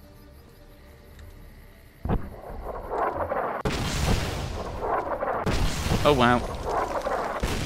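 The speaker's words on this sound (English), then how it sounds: "It's artillery." Artillery fire in Fallout: New Vegas, heavy booming blasts starting as a sharp low thud and swelling into long, loud rumbling bursts, with a man reacting in speech over the barrage.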